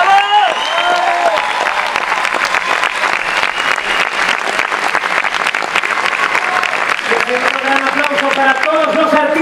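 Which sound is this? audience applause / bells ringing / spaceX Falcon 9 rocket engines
audience applause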